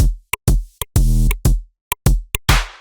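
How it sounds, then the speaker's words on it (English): Synth impulses pinged through a resonant phaser make short, clicky percussive hits, about a dozen quick pings in an uneven rhythm, some ringing with a pitched, hollow tail and the last one sweeping into a noisy whoosh. "phasers usually create some very interesting sounding"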